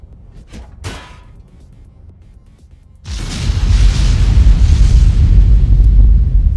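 A ship explodes in the space game Starbase, a sudden loud, broad roaring blast that bursts in and then keeps rumbling heavily, with faint clicks and quiet sounds before it.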